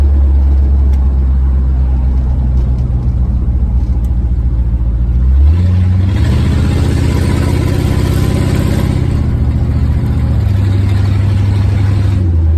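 A 1968 Lincoln Continental converted to Holley Sniper EFI, climbing a hill: a steady low engine drone builds into a louder, rising acceleration about halfway through, then holds a strong pull to the end, with no talking.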